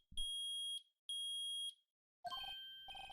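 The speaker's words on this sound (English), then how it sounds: "Beep." Two identical sustained electronic beeps from the courtroom video game Phoenix Wright: Ace Attorney sound in a row, each under a second, followed by a brighter jingling game chime.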